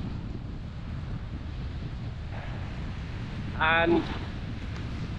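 Headwind buffets a cyclist's microphone on a wet Christmas Day ride, a constant low rumbling roar throughout, with a short burst of speech partway through.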